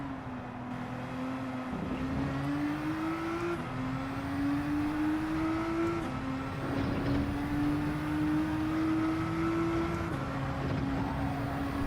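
A Nissan GT-R in Gran Turismo 7 drives through several gear changes, engine note climbing smoothly in each gear and then dropping back at the shifts, a steady mechanical drone running throughout.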